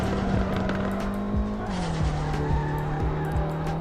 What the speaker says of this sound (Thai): เสียงรถก็เหมือนกันทุกคันนะถึงแม้จะแต่งท่อมาไม่เหมือนกัน